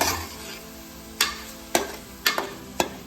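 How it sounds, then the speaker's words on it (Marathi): Chicken being stirred into a green spinach and coriander paste in a pan: a handful of sharp spoon scrapes and clacks at irregular intervals over a soft sizzle, with faint music in the background. "आणि आता याला मिक्स करू एकदम कडक."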